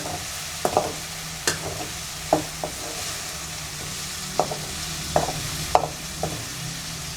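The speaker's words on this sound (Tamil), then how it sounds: "கத்திரிக்காய் நல்லா வதங்கணுங்க." Brinjal sautéing in oil in a pan for Chettinad kathirikai kuzhambu, with a steady low sizzle under scattered scrapes and knocks from a spoon against the pan.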